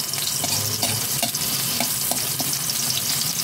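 Onion sautéing in a pan for Filipino ginisang tahong (mussels), a loud close sizzle with rhythmic stirring scrapes about every half second, no voices.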